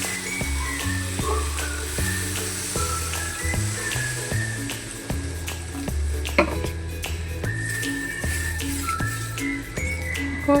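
Water poured into fried masala in a pan, loud steady sizzling and bubbling with occasional clinks of a utensil against the pan, no speech.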